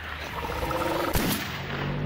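A single gunshot cracks in the Silent Hill Homecoming video game, one sharp loud report over a dark, steady ambient game backdrop.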